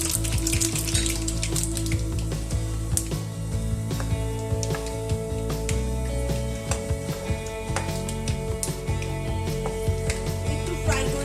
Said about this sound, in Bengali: এবার আমি ফোড়নটা দিয়ে দিচ্ছি।